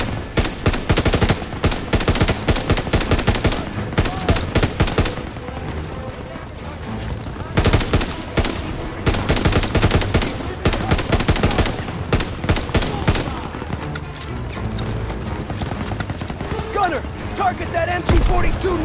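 MG-42 machine gun fire rattles through a Call of Duty WWII battle alongside tanks, long rapid bursts of gunshots nearly nonstop for the whole stretch, loud and close, mixed with shouted voices.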